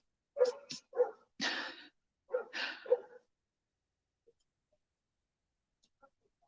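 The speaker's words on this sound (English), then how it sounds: "I swear that's one of my kids' favorite things to do is make my dog bark." Several barks and yaps from a dog come in quick succession over the first few seconds, close by, then trail off into near quiet.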